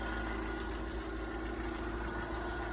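A 1995 Jeep Wrangler's 2.5 liter four-cylinder engine idling, a steady, close, low rumbling drone with even vibration throughout and no talk.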